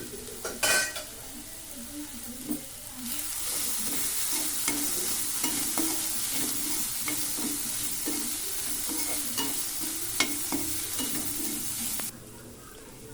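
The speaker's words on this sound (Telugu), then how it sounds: "ఇప్పుడు కొంచెం ఫ్రై చేసుకుందాం." Bread masala fries in a pan with a steady close sizzle while a spoon stirs and scrapes in repeated strokes. The frying starts after a few early clinks and cuts off near the end.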